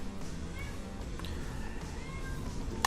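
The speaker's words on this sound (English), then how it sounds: "And you can hear my cat." A house cat meows from behind a closed door, a few muffled drawn-out cries over quiet room noise.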